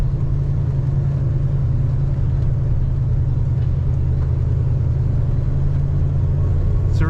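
A 1970 Pontiac GTO accelerates while driving, its engine giving a loud, deep, steady rumble heard from inside the car, with the tone building slightly toward the end.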